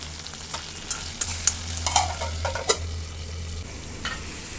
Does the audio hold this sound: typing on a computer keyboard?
no